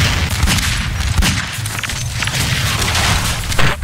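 Rocket launcher blasts in the multiplayer shooter Half-Life 2 Deathmatch, loud booming bursts that follow one another over a constant din of gunfire.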